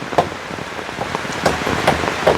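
Rain falls steadily near a hut under construction, a soft continuous hiss broken by scattered louder drips and taps on a surface, with no talk.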